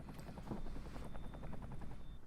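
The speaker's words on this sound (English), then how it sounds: "Ooh, we got a helicopter landing." A helicopter comes in to land in a video game, its rotor chopping in a steady, throbbing pulse that stays loud and close throughout.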